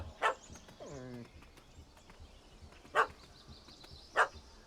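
A dog in The Witcher 3 game barks sharply at a cat up a tree: three loud isolated barks spaced a second or more apart, with a short whining whimper between the first two.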